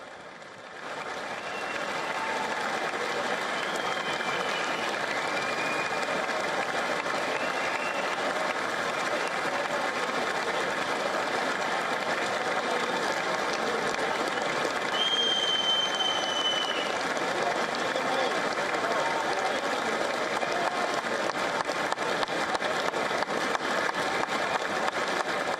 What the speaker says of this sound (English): coming into a loud round of applause.